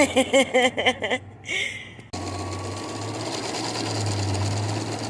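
A sewing machine runs in a van, powered by a Jackery portable power station, first in short bursts of stitching, then after a pause as a steady, continuous whir with a low hum, moderately loud.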